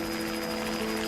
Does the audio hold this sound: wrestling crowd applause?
no